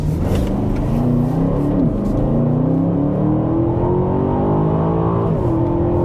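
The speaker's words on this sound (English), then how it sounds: "Can you hear that rev matching? Can you hear that when the gears downshifted?" A 2021 Aston Martin DBX engine hums steadily, then briefly drops and jumps in pitch as gears shift down with rev matching, the revs climbing smoothly afterward under road rumble.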